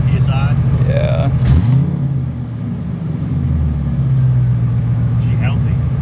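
A stock C5 Corvette V8 idles at about 800 rpm with a steady, close rumble, while people talk over it and a brief rev swells midway.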